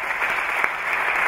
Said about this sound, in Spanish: Un aplauso para Xavi.